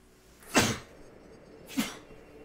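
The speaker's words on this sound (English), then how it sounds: "I'm gonna sneeze." Two short sneezes, the first stronger, the second softer, about a second apart against a quiet background.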